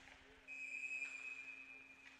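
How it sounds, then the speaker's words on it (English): A referee's whistle at an ice hockey face-off gives one thin, steady high blast lasting over a second, faint and somewhat distant over a quiet rink hum. "whistle goes"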